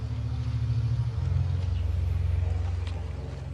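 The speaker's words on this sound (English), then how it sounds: "Motorcycle coming out." A motorcycle engine runs close by at a combat scene alongside Afghan forces, giving a steady, loud low rumble with a droning harmonic tone that shifts pitch slightly partway through.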